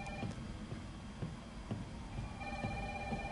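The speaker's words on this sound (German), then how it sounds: "Ach, das Telefon kann gerade warten." Telephone ringing in the Resident Evil 3 video game, a faint repeating bell ring with regular short pulses over a low ambient hum, distant and quiet.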